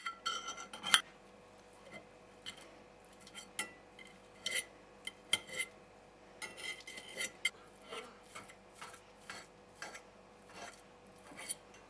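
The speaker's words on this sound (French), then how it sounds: "Une fois que les œufs sont cuits, on va eux aussi les écraser." Boiled eggs being mashed in a bowl for a tuna brick filling: close, irregular metallic scrapes and clinks against the bowl, coming in short bursts with brief pauses and no talking.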